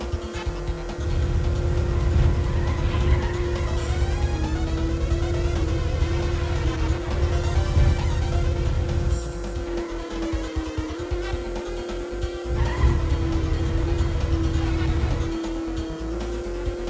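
Racing car engine in the Gadget Racers video game, a loud continuous high engine drone with pitch shifts as it accelerates and eases off, plus brief tire squeals, with no talk.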